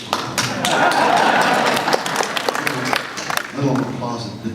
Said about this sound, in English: Little applause that didn't catch on.